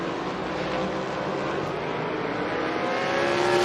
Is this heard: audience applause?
no